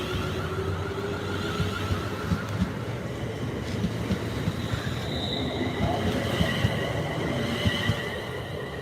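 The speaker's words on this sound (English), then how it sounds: "Oh yes, that freight train is coming." A freight train rolls past with a continuous heavy rumble, rhythmic wheel clatter and faint metallic squeals, steady and fairly close, with no talking.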